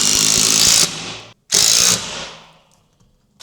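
A power tool drives a hex bolt into an EV cable mount for a Tesla charging cable, two loud close whirring bursts split by a brief pause, the second winding down into a quiet ratcheting tail.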